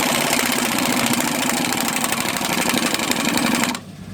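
A workshop air compressor runs loudly and steadily up close, then cuts off abruptly near the end.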